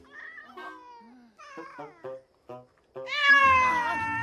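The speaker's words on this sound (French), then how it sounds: "Donc concentre-toi sur les miaulements." A cartoon cat meows repeatedly in a French animated film, several short separate mews followed by a long, loud, drawn-out wail at the end, with no talk over it.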